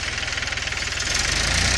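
A tractor engine runs while digging furrows in a sugarcane field, a loud close rhythmic knocking drone that holds steady and thickens slightly toward the end, with no voices.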